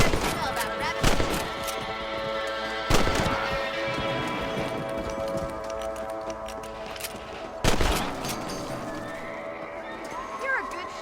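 Rifle shots in Red Dead Redemption as rabbits are hunted, a few loud sharp cracks spaced seconds apart, with horses whinnying and hooves clip-clopping nearby and game character voices talking in between.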